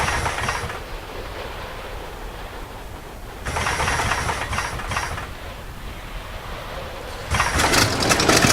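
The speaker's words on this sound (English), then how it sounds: "Let's go ahead and start the engine and see what that sounds like" A biplane engine in the Rise of Flight video game turns over in bursts, with rough rattling runs separated by lulls before it catches again at the end, fairly loud and close.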